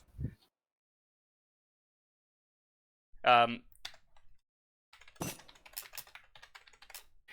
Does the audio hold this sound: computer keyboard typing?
yes